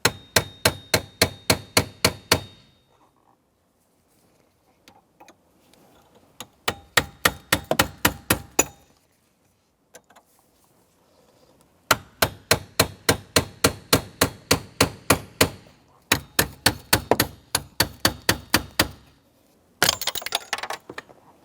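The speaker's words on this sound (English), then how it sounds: "I'm also taking a sharp cold chisel and just giving it a tap to see if I can get it in there." A hammer taps a sharp cold chisel while working a steering column shift linkage coupler on a 2002-2005 Ford Explorer, sounding as rapid bright metallic strikes in several bursts of about a dozen blows each, with quiet gaps between them.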